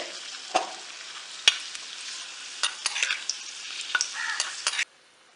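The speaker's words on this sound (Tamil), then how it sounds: "முந்திரி பருப்பும் இந்த கிஸ்மிஸ் திராட்சையும் போட்டுடலாம். இப்போ எல்லாம் வறுப்பட்டுட்டு" Cashews and raisins fry in a pan for a sweet temple offering, with a soft sizzle beneath scattered sharp clicks and scrapes from stirring, then a sudden stop, all fairly quiet and without talk.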